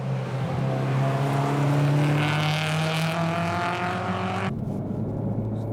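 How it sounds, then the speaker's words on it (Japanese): A Honda Fit with a K20 engine and two new Suzuki Swifts race on a circuit, their engines loud and close with a rising, sustained whine that cuts off abruptly as the cars pass. "K20 のフィット、2台の新型スイフトが追う展開"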